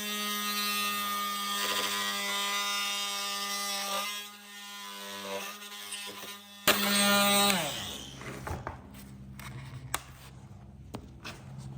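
Power saw running with a steady buzzing whine, then a rougher burst as the blade bites into wood to cut a groove during a stable door restoration, followed by the motor spinning down amid scattered clicks and knocks.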